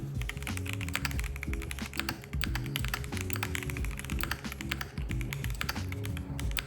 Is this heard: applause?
no